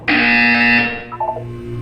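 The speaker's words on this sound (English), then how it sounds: "When you hear the buzzer, look down at the floor." A harsh electronic buzzer from the video game Portal 2 blares loudly for under a second, then falls away into a few softer descending tones.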